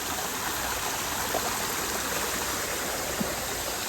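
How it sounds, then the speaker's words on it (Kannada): A small waterfall near Mangalore pours steadily, a dense, even rush of falling water filling the whole stretch with no voices, close and constant. "ಇಲ್ಲಿ ನೋಡಿ ಫಾಲ್ಸ್ದು ನೀರೆಲ್ಲ ಹಂಗೆ ಬೀಳ್ತೈತೆ"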